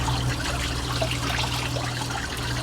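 Water rushes steadily through a boat engine's cooling system as it is flushed, a continuous close trickling and pouring stream with no talk.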